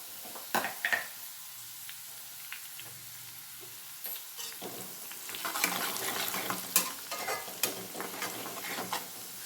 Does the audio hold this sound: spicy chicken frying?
yes